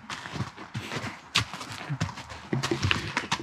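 A ridden horse walks along a trail, its hooves clip-clopping in an uneven steady rhythm close by, with soft rustling from the rider and tack between the footfalls.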